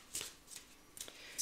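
Tarot cards being handled to draw a single card, with a few short, soft papery slides and flicks spaced apart, faint and close, no talking.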